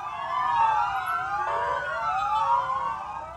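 Several ambulance sirens wail together in overlapping rising and falling tones, with traffic rumbling beneath, as a funeral cortege makes its way through a town in northern Israel.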